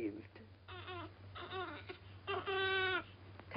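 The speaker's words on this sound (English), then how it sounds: "He's been crying for 5 minutes." A hungry infant with colic cries in a 1939 home, wailing in several drawn-out bursts of rising and falling pitch, with quieter gaps between them and a steady low hum underneath.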